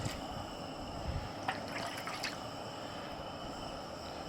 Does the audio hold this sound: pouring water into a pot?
yes